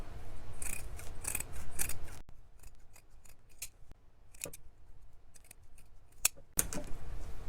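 Scissors cutting wool coat fabric while tailoring a coat, trimming seam allowances into triangles: a busy stretch of snipping and rustling, then sparse, crisp individual snips, close and clear with no speech.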